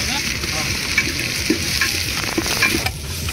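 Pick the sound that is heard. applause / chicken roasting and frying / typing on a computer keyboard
chicken roasting and frying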